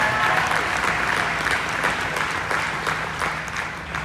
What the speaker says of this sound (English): round of applause for Cody and for the AV team again